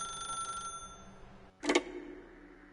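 A telephone rings in a video game, a short electronic ring tone that stops, followed by a brief louder burst of noise after a moment of near silence.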